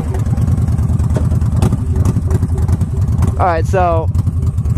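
A Yamaha Stryker motorcycle engine idles with a loud, lumpy close-up rumble, and someone talks briefly over it near the end.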